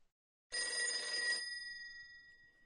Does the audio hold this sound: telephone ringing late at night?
yes